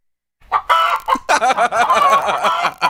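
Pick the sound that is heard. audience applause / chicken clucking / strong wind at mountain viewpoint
chicken clucking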